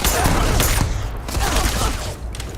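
Rapid gunfire in the Starfield video game, a dense burst of shots that runs loud and close through the whole moment.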